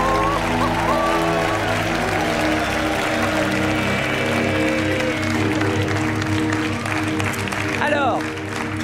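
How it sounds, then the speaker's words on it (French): A studio audience at a French TV game show applauds steadily throughout, a dense wash of clapping with show music and background voices mixed underneath. "On vous laisse repartir sous les applaudissements du public"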